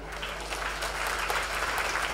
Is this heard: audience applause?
yes